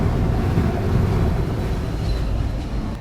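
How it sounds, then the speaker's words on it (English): Wind of over 60 knots roars over a ship at sea in rough weather, a loud, dense, continuous rush with a deep rumble and no voices. "Over 60 knots wind."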